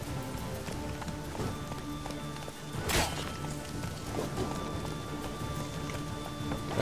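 A horse gallops in the video game The Witcher 3, giving steady rapid hoof clip-clops under game music and ambience, with one sharp impact partway through, moderately loud and continuous.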